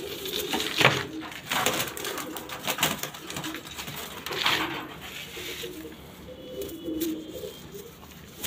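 A black Chini-type Punjabi female pigeon, held in the hand, gives soft low coos at close range, mixed with rustling, scuffing handling noises and a few sharp clicks.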